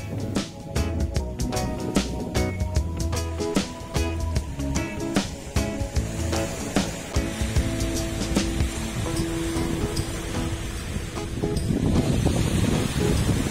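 Ocean waves roll in at Lhoknga beach, which faces the Indian Ocean. Surf rumbles and washes in steadily, with gusts of wind buffeting the microphone and no voices heard.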